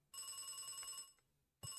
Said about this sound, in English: That's the phone.